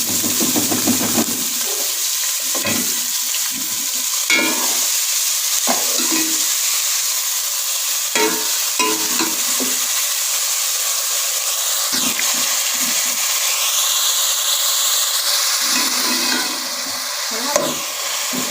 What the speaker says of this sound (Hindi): प्याज़ों को हम अच्छी तरह से भून लेंगे।